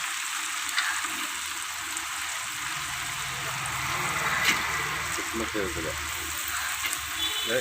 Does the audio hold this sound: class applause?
no